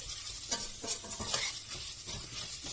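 Meat for Ottoman hünkar beğendi sears with a loud, close sizzle while a utensil stirs and scrapes it around the pan in quick repeated strokes.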